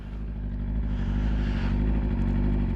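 A motorcycle idling loud and close with a steady low rumble, then a slight rise in revs and a clunk as the bike is knocked into gear, no talking.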